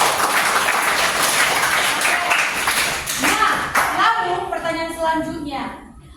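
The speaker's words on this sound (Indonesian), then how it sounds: "Tepuk tangan untuk Samuel dan Mika." Classroom applause for two students during a biology lesson, a loud, close patter of hand claps that thins out after a few seconds as a voice begins talking over the fading clapping.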